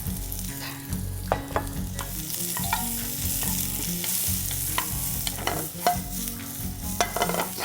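Sliced cucumber stir-fries in a hot pan with a continuous loud sizzle, punctuated by scraping and clattering as the pieces are tossed and stirred, close and busy throughout.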